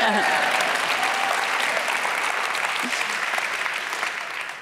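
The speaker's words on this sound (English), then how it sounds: "Can I get an applause for that?" An audience at a social entrepreneurship awards event applauding, with full, dense clapping that slowly thins and fades toward the end.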